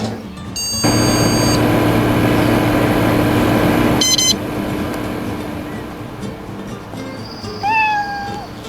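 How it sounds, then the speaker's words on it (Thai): A cat meows near the end of a stretch of loud, busy sound from an internet café management video game, with short electronic beeps earlier and a brief, clear meow rising at the close. "แมวที่ไหนมาร้องแถวนี้"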